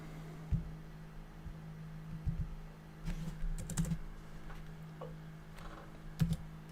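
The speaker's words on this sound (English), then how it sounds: "let me type this in" Keys tapped on a computer keyboard in short uneven bursts, quiet and close over a low steady hum, with pauses between clusters of clicks.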